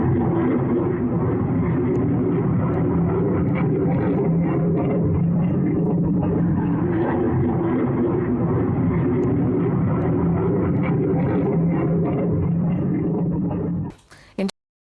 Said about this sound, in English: Residents in the city of Chengdu recorded a mysterious plane flying over the city.